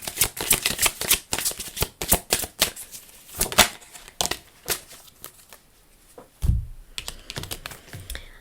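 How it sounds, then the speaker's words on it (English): A tarot card from a Mercury Rounds Edition 2 deck is drawn and handled: a quick, close run of crisp paper flicks and shuffling snaps, then a soft thump and a few lighter rustles, with no voice. "let me just grab a Mercury Rounds Edition 2 card"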